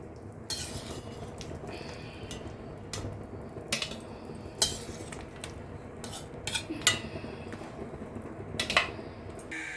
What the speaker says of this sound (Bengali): মাংসগুলো আমি ছাঁচা দিয়ে তুলে নিচ্ছি।